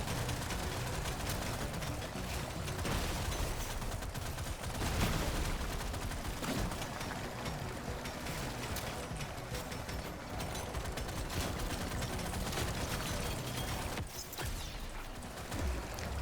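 Acid weapons in Deep Rock Galactic: Survivor fire at a rapid rate, about 13 shots a second, as a dense, unbroken clatter of shots layered with game effects. It stays loud and steady throughout, with no talking.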